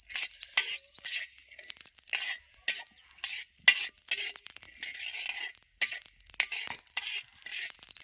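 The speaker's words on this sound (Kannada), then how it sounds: "ಸಾಸ್ಬಿ ಅಂತೂ ಚಟಪಟ ಅಂತೇಳಿ ಭಾಳ ಜಲ್ದಿ ಸುಡ್ತಾವ್ರಿ" Mustard seeds roasting in a hot pan, giving a continuous bright crackle and rustle with repeated stirring scrapes, close and fairly loud, broken by a few short pauses.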